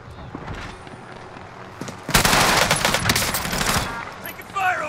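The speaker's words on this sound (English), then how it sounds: "Taking fire over here." Rapid video game gunfire erupts midway, a loud dense burst of automatic shots lasting a couple of seconds after quieter game sounds, with players talking around it.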